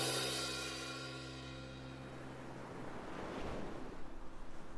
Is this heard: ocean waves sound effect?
yes